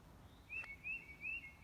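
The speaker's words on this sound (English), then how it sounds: "you may hear the birds chirping" Small birds chirp in a churchyard on a spring day in East Tennessee, with a series of short, high, repeated tweets at a steady pace, faint and somewhat distant over quiet outdoor air.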